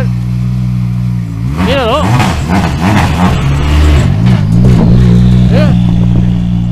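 A race car engine revving as it passes at a race, its pitch sweeping up and down over a steady low drone, with excited people talking close by over the noise.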